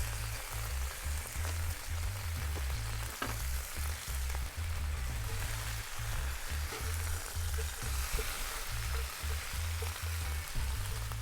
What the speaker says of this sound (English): You can see, get a nice sear on your lamb on either side.